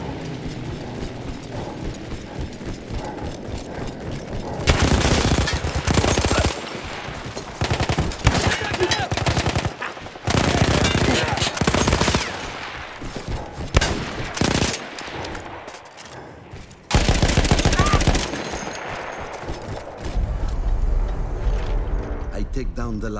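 A mounted machine gun fires in the Italian Alps campaign of Battlefield 1, a World War I game, with loud sustained rapid bursts separated by short gaps filled with distant gunfire and battlefield clatter.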